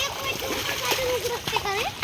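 Splashing from children playing in garden water late at night, with bursts of water splatter mixed with excited kids' voices and shouting nearby.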